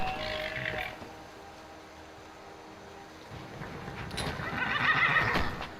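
A horse in the video game Skyrim whinnies loudly at the start, then hooves clop and a second neigh rises toward the end over a low ambient game background, with no talk.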